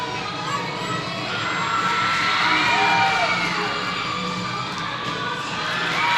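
Crowd cheering and shouting in a gym during a competitive cheer semifinal routine, a steady loud roar of whoops and yells that swells midway and carries on throughout.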